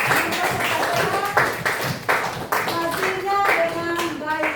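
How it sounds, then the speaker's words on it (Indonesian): A classroom audience of students claps for a group that has just finished presenting, a steady, fairly close burst of hand clapping lasting several seconds, with faint voices mixed in. "Tepuk tangan dulu untuk kelompok visual yang sudah mempresentasikan"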